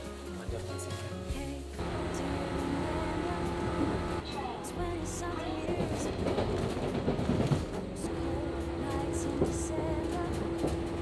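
An electric commuter train in Japan runs steadily on the rails at close range, with a continuous loud rumble and rattle throughout and a sustained tonal hum entering partway through.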